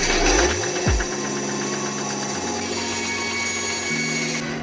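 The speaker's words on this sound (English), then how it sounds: "using combination of a dowel blade, bandsaw, and the jigsaw, here's what we got" Power saws cut wood for a homemade wooden fishing reel, a loud motor revving and whining at changing pitch with a grinding rasp through the wood, close and continuous.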